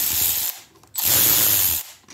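Ratchet pawl clicking on a Yamaha PW50 kick starter as it is adjusted, with two close, loud bursts of rapid clicks separated by a short pause.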